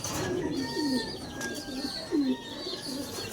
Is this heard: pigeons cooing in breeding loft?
yes